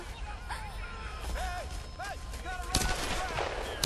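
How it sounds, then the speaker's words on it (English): Gunfire in the Tomb Raider reboot, sharp shots cracking out over a steady game soundscape with a warbling tonal call, a heavier burst near the end. "They're shooting people."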